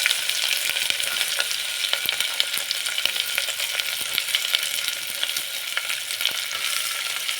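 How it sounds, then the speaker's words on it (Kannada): Vegetables with curry leaves and carrot fry in a hot pan for a dosa side, a loud continuous sizzle with scattered crackles and stirring clicks throughout, no talking. "ಫ್ರೈ ಮಾಡ್ಕೊಳ್ಳೋಣ. ಫ್ರೈ ಆಗ್ತಾ ಇದೆ."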